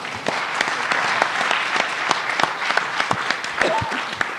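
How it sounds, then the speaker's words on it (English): An audience at a climate and food panel event claps warmly for an organizer, with fairly dense applause featuring distinct sharper individual claps standing out near the front. "I'd like a little round of applause for him"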